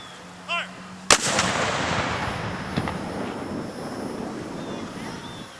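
A single cannon booms at a Confederate Memorial Day salute by the Sons of Confederate Veterans, a sharp loud blast followed by a long rolling rumble that fades slowly outdoors, preceded by a brief shouted command.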